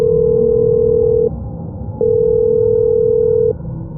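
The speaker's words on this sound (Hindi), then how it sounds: "दूसरी तरफ से आवाज ने फुसफुसाते हुए कहा, परिवार के अतीत को ध्यान से देखो। और फिर लाइन कट गई।" Telephone line tone after a call is cut off: two long, steady electronic beeps separated by a short silent gap, loud and alone.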